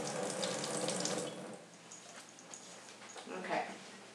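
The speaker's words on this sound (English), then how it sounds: "I'm going to wash my hands real fast" Water running from a tap into a sink during hand washing before a physical checkup, a steady broadband rush heard close, louder at first then settling, with a voice talking over it.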